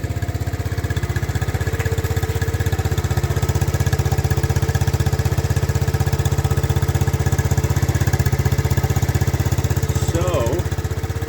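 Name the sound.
restored Honda ATC70 engine running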